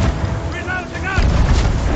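Cannon fire in the video game Sea of Thieves, heavy booms rumbling over ship and sea ambience while a voice talks alongside.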